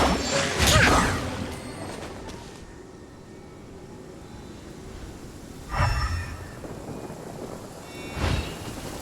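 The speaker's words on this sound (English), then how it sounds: "Marching in the rain conceals the sound of our arrival" Rain falls steadily in the video game Genshin Impact while deep thunder rumbles and cracks break in at intervals, loud near the start and again further on, over a constant wash of rainfall.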